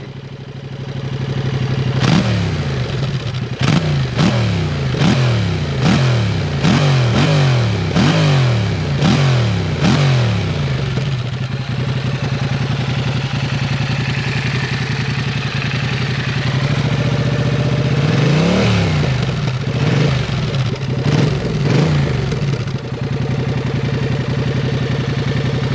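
A 2022 Yamaha MT-07 with an Akrapovic exhaust revs hard in a rapid series of throttle blips, settles into a loud idle, then revs again several times, close and alone.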